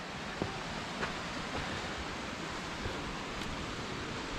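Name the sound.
waterfall rushing in mountain valley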